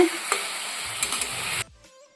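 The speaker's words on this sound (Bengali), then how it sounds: "এই দেখো আমাদের বাড়িতে চিকেন রান্না হচ্ছে" Chicken curry cooking in a home pan: a steady hiss of frying with light stirring scrapes that stops abruptly near the end, leaving near silence.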